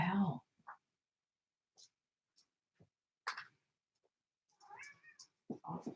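A cat meows at night while playing indoors, giving one loud close meow at the start, then short scattered cries and small clicks with long quiet gaps, and a few more meows near the end.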